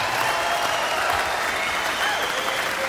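A stand-up comedy audience claps steadily in a dense, sustained wash of applause that fills the whole stretch at an even, loud level.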